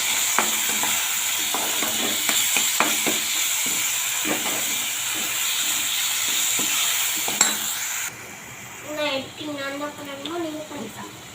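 Tomatoes sizzle loudly in a hot pan with ginger and garlic, with stirring scrapes, then the frying quiets and a voice speaks briefly.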